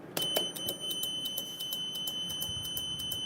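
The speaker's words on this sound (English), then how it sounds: "So there's your fire alarm system." An electronic alarm beeps in a rapid, steady series of short high-pitched pulses, fairly close and continuous throughout.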